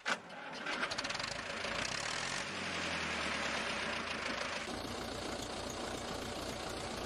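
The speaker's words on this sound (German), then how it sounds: "Okay, machen wir Motor an." An Ursus C 360 tractor engine in Farming Simulator 19 cranks with a sharp starting burst, then settles into a steady, rumbling idle that carries on evenly and fairly loud, with no talking over it.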